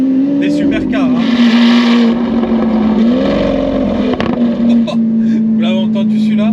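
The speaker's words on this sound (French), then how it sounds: "Vous l'avez entendu celui-là? Sacré retour d'échappement." Hamann-tuned Lamborghini Aventador supercar roaring loud and close with a steady droning exhaust note, rising and falling revs and a sharp backfire crack partway through.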